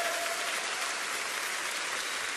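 A church congregation applauding loudly during a worship song, a dense, steady wash of many hands clapping that fills the whole stretch without letup, with no voices standing out.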